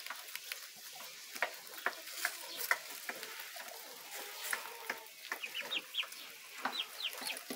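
Índio Gigante chicks and chickens eating grass, soft scattered clucks and chirps over light rustling and pecking, faint and close, with no one talking.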